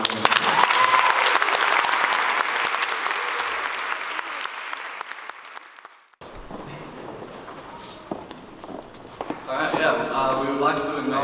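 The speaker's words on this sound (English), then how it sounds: "I think we should give John, Vanessa and Aroha a mighty round of applause" A conference audience gives a hearty round of applause, dense and loud at first then tapering off, after which a speaker begins talking.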